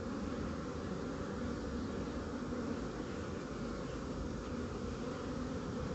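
Honeybees crowd the top box of a new beehive, making a steady, dense drone that holds without a break and with no voices.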